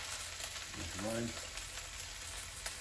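Fried rice seasoned with garlic powder, ginger and pepper sizzles steadily in a hot pan while a utensil stirs and scoops it, a continuous close frying hiss with faint scraping.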